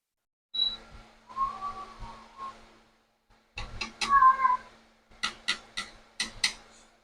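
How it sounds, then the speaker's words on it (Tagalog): Tabi, a pet cat, meows loudly and repeatedly in a home kitchen, a string of insistent near cries followed by several short sharp calls in quick succession. "Ang ingay ng aming pusang si Tabi."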